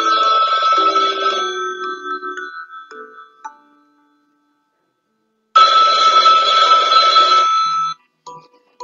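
A telephone rings in two long, insistent bursts separated by a few seconds of silence, loud and close.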